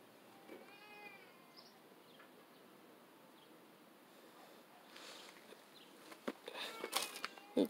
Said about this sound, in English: Such a pretty cat.